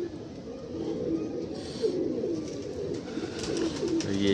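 Pigeons coo softly and repeatedly, low throaty calls close by over a quiet background murmur.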